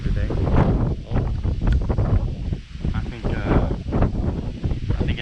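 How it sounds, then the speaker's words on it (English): Strong wind gusting over choppy lake water while bass and crappie fishing from a boat, a steady loud broadband roar with microphone buffeting throughout. "It's so windy"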